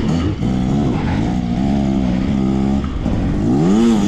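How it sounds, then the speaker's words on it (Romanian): Hard enduro motorcycle climbing a rough trail of roots and rock, engine note loud and close with a steady rising and falling drone, revving harder near the end, no talking. "Vine Balin, motorul lui Andrei."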